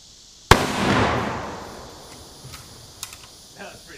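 A single rifle shot cracks loud and close at the start, a cheaper round than 30-06, followed by a long decaying rumble and a few faint clicks as it fades.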